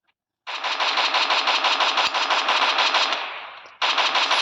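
Automatic gunfire in the video game Free Fire rattles as a loud, rapid, continuous burst of shots lasting over three seconds, then a brief gap and another burst.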